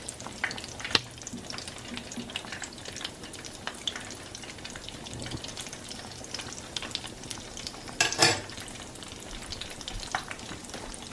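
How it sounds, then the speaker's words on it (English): Potato chops made from potatoes, onions, coriander, garlic, salt and masala fry in a pan, giving a steady low sizzle and crackle with occasional louder pops and stirring scrapes. "So we convert this into this, and it goes right here on the frying pan."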